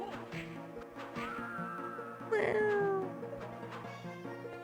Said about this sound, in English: Sounds like a sad cat.